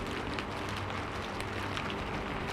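Steady rain falls on a skylight and surrounding surfaces, a dense, even patter that holds at a soft, constant level throughout with no voices.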